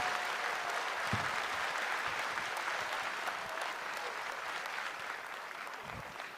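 Audience clapping for comedian Eja Saputra, a steady, moderately loud wash of applause filling the whole stretch, with faint voices mixed in.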